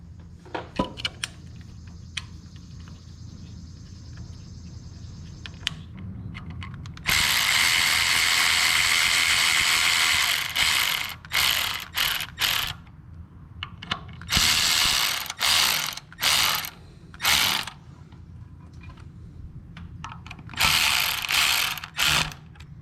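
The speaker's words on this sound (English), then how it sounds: "Just double check with my hand ratchet." A hand ratchet tightens the stator on a Wheel Horse 520 engine, giving bursts of fast, loud clicking close to the microphone, separated by short pauses and quieter handling noises, with no talk.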